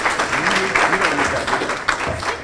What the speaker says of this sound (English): So, Angelita, let's give her a round of applause.